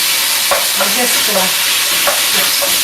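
Food sizzles and crackles steadily in a hot frying pan, a dense constant hiss with occasional soft scrapes of stirring.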